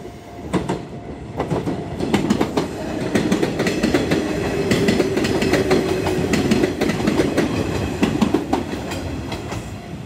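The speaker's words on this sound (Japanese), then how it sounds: "筑紫行きの普通列車" A local Nishitetsu train bound for Chikushi rumbles past close by at Futsukaichi Station, wheels clattering rhythmically over rail joints with a steady roar throughout.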